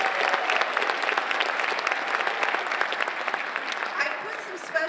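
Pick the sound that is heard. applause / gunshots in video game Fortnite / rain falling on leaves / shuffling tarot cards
applause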